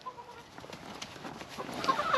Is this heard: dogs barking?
no